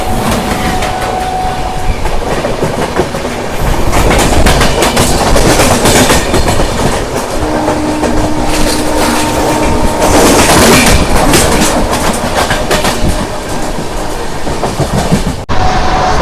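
Long-distance general-class passenger train from New Delhi to Chennai running fast, with a steady loud roar of wheels on rails and rhythmic clickety-clack, close and continuous with no talk.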